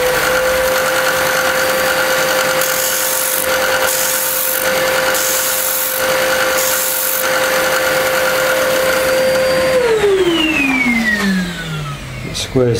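A machine squares off the front face of a knife part, a steady whining tone with broadband grinding that winds down in pitch near the end.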